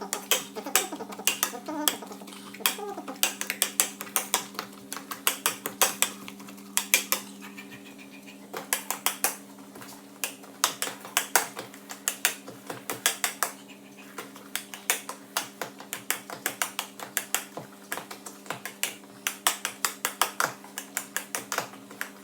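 A potato masher works potatoes and butter in a pot with steady rhythmic clacks and knocks against the pan, fairly quiet and close, continuing for a long stretch without talk.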